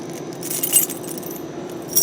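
A bunch of keys jangles and clinks close by while someone sorts through it for the right one to open a door, with metallic rattles in irregular bursts and no talk.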